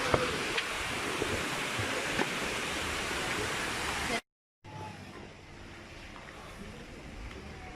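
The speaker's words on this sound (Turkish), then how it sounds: "Stüven Şelalesi." Rushing water of the Stüven waterfall, a steady broadband roar heard from close by, briefly cut to silence midway and then resuming at a slightly softer level.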